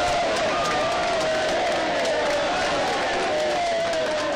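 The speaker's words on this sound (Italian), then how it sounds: "accogliendoli all'entrata e all'uscita con una serie di versi e applausi ironici." Protesters at a museum entrance greet exhibition visitors with mocking applause, jeers and derisive calls, a dense crowd noise with scattered clapping and a whistle-like tone running throughout.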